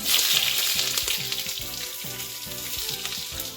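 Potato and eggplant chunks hit hot oil seasoned with dried red chilli and bay leaf, setting off a loud, continuous close-up sizzle that holds steady throughout with no voices.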